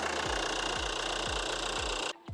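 A 2020 Mercedes-Benz A-Class with a Peugeot 1.5 engine idling just after starting, giving a steady loud chugging hum with regular low thuds roughly every half second, then a brief dip near the end.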